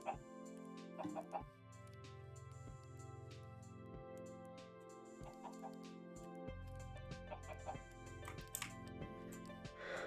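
A chicken in the AltOrigins video game clucks in scattered short calls over a loud, steady layer of synthesized game music, faint and somewhat buried beneath the tonal background.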